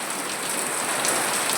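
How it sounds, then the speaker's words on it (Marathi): Sudden heavy downpour in a storm, a dense, close hiss of rain pounding surfaces, steady and loud throughout, with no talk. "बाकी पाऊस बघा कसला आहे भाई"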